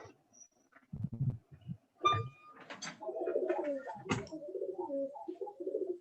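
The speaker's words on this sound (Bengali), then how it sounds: "কবুতর ডাকে" Pigeons coo in low, soft bursts among other scattered chirps and faint background noises, fairly close and intermittent, with no clear talk.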